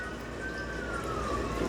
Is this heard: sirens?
yes